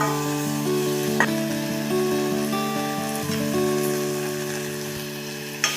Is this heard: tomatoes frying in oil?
yes